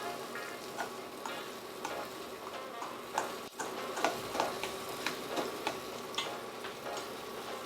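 A savory pancake crisping in a hot pan, with a soft steady sizzle and scattered small ticks and pops, moderately close and without talk.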